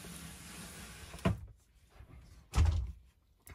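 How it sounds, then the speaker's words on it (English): Two sliding cabinet doors on a shelving unit holding a 4K and Blu-ray disc collection glide across and bump shut, each slide ending in a soft thunk, close and quiet, with a final light knock. "So slide these two doors over"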